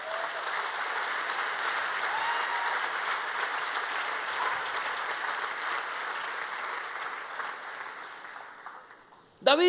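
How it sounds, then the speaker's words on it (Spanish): Sustained audience applause fills a church youth-night service, steady and dense for most of the stretch before fading near the end. "Eso merece un aplauso al Señor."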